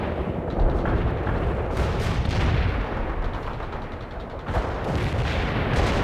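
An artillery barrage rumbles through a World in Conflict battle, with a dense, continuous roll of heavy booms and crackling impacts that sometimes swells into louder bursts, loud and sustained throughout, with no voices.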